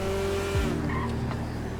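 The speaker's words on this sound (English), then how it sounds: "this car, the way it sounds" A car engine in a racing video game revs high, then drops sharply in pitch partway through, with a brief tire squeal, all heard up close with no talking.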